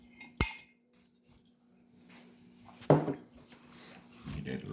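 A spoon stirring brown sugar into pineapple baked beans: a sharp metallic clink at the start, then soft scraping and a brighter clatter of utensil against the dish, with quieter rustling between.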